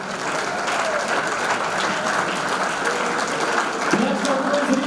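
Steady, dense applause from the audience at a sports hall of fame ceremony, sustained throughout at moderate loudness, with a voice briefly audible underneath toward the end.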